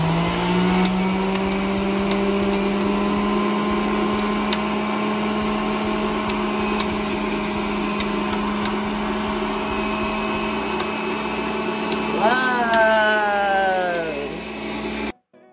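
Electric juicer running while making fresh apple juice, a loud steady motor drone with a strong low hum, a pitch dip near the end, then a sudden stop, close by.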